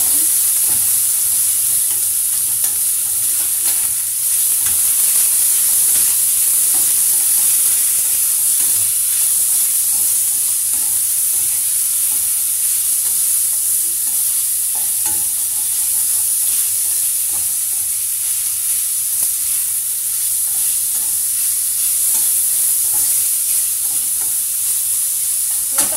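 Pork frying in a pan until it browns and renders fat, a steady loud sizzle and hiss that continues without break, with faint stirring scrapes now and then and no talking.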